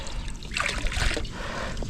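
Water being scooped and tipped out of a small boat to keep it from sinking, heard as a close, wet trickling and splashing burst lasting about a second, alone without talk.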